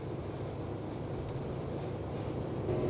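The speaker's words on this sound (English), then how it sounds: "And this is the sound of 70 miles an hour, again on a flat smooth road, windows up." Car with a non-turbo 2.4 engine and big bore stainless exhaust cruising at 70 mph on a flat smooth road with windows up, giving a steady broadband interior drone and road rumble without talk.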